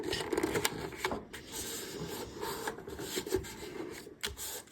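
Paper for an autumn craft project is folded and creased, giving continuous close rustling and rasping scrapes with no talking.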